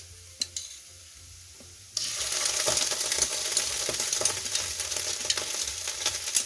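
Ginger-garlic paste goes into a pan with mashed peas: a quiet start with a couple of clicks, then a sudden loud, dense frying sizzle that holds steady, with stirring scrapes throughout.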